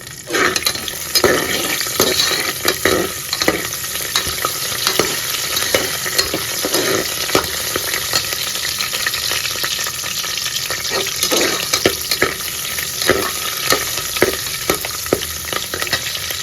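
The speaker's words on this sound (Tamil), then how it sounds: "ஒரு 3 பச்சை மிளகாய் சேர்த்துக்கிறேன்" Green chillies fry in hot oil in a pan for vegetable pulao, a loud steady crackling sizzle with intermittent scraping stir sounds close by.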